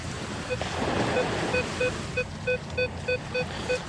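Ocean surf washes onto a beach in a broad, rushing wash, overlaid by a regular series of short, bright electronic beeps from a Minelab Vanquish metal detector sweeping nearby.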